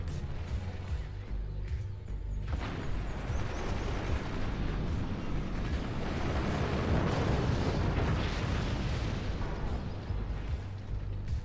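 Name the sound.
warhead explosions in a video game battle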